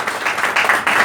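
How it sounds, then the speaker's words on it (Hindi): Brief loud applause at a health seminar, a short burst of clapping from the audience lasting about a second. "सर के लिए तालियां जोरदार।"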